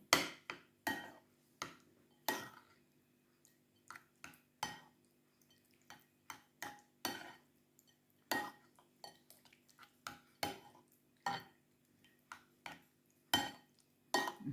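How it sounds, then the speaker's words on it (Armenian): A spoon stirs tomato, mayonnaise and oil together in a bowl, giving close, quiet, irregular clinks and scrapes against the bowl that repeat steadily throughout with short pauses between strokes. "հիմա էլ ավելացնեմ ձեթ, այս բոլորը խառնեմ իրար"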